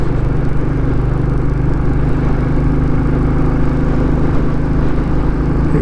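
A Royal Enfield Classic 350 motorcycle thrums along a country road in the Pennine Hills under slight load, its engine giving a steady, close, unbroken low rumble.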